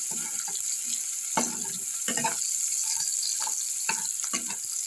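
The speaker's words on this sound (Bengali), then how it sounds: "পেঁয়াজ হলে একটু লালচে করে ভেজে নিই" Onions fry in a little oil until reddish, giving a continuous close sizzling hiss broken by irregular crackles and stirring scrapes.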